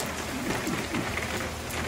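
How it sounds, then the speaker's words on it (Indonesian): Heavy rain pours steadily, a dense continuous hiss of drops drumming on surfaces with no pauses. "Hujan deras."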